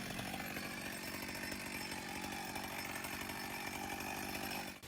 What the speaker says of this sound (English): A quick bit of chainsaw work